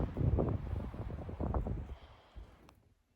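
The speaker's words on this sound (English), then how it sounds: "It was definitely too windy out there" Strong wind buffets the microphone outdoors, a loud low rumble in gusts for about two seconds before easing off toward the end.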